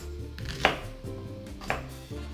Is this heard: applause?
no